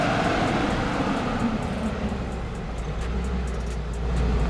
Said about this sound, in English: The Toyota drives to the first obstacle